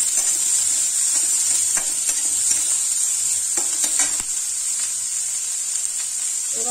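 Litti chokha ingredients frying gently in a pan and stirred lightly, heard as a steady bright sizzle with occasional soft scraping stirs, close and continuous.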